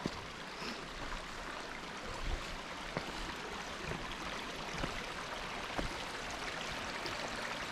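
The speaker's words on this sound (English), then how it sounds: "It's nice that we've got some running water." A creek runs through a rocky gorge in the Flinders Ranges, giving a faint, continuous wash of flowing water with a few soft splashes and no voices.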